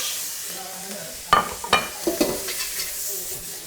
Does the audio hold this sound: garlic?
yes